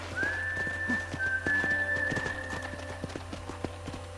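Horse hooves clip-clop at a steady walking rhythm in the Red Dead Redemption game on Xbox 360, near and moderately loud, with a long whistle-like tone sustained above them.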